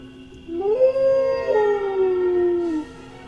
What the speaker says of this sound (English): And then he just howls